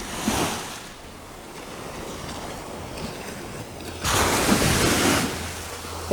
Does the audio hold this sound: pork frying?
no